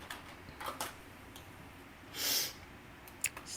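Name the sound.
person sniffing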